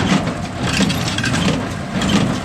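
A tractor pulls a square baler through a hay field, its engine a steady close rumble with rhythmic mechanical churning and thumping from the baler running continuously, no talking.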